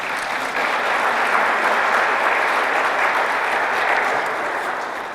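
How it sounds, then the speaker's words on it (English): Sustained applause from an audience at the grand opening of a STEM academy in the Oranges, New Jersey, a dense, steady wash of clapping that holds evenly for several seconds and tapers slightly at the end. "y'all can clap for that too"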